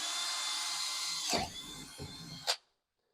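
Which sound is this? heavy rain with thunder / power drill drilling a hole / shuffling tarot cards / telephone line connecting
power drill drilling a hole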